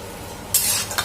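Onions dropped into a hot pan of browned chicken hit with a sudden sizzle that keeps crackling, with a couple of stirring scrapes after a quiet kitchen hush.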